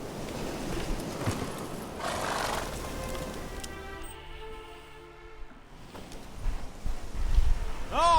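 Roach, a horse in The Witcher 3, whinnies with a rising call near the end, after a stretch of hoof and movement noise and low ambient rumble.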